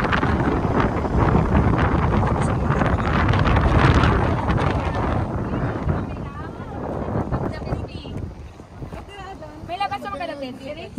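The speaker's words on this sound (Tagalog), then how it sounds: "Medyo humangin na." Strong, gusty wind roars across the microphone on the shore at Sibang Cove on Calayan Island, loudest early and easing later, with people talking over it.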